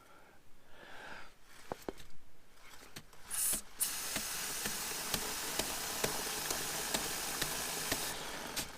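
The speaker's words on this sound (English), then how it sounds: "Then all we do is just spray a small bit on the outside links" A steady aerosol hiss sprays chain lube onto a motorcycle chain continuously for several seconds, close and fairly loud, after a few clicks and handling noises at the start.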